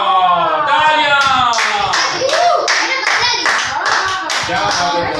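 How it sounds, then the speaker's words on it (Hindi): Children and hosts clap together on a kids' show in a studio, loud close rhythmic clapping heard under and between lively voices and talk throughout. "वाह तालियां"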